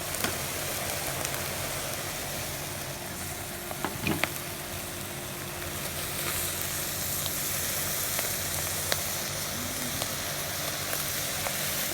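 Gochujang-glazed lamb ribs sizzle hard in a hot pan, a dense, continuous frying hiss with scattered pops and a brief clatter partway through, close and loud with no talking.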